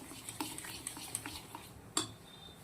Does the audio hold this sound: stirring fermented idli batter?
yes